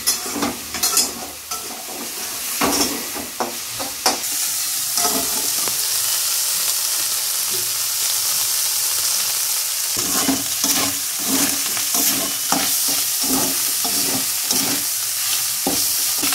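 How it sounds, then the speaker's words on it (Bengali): Small fish sizzling steadily in hot oil, with occasional scraping and stirring clatters from a spatula against the pan. "মাছগুলো আমাদের প্রায় ভাজা ভাজা হয়ে এসছে"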